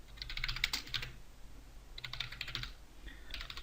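Soft, close computer keyboard typing comes in two quick flurries with a short pause between them and a few more keystrokes at the end, all fairly quiet.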